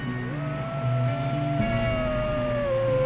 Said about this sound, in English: Was it wolves? See that on the ridge?